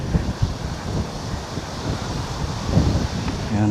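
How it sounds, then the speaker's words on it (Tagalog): Strong wind blows steadily outdoors near the water, a continuous broadband rush with gusty swells that rise near the end, with no talk over it. "Grabe, sobrang lakas ng hangin."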